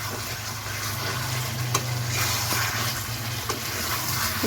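Chicken curry with potatoes and spice paste sizzles in a hot pan as it is stirred, giving a steady frying hiss with a few soft scrapes and knocks of the spoon.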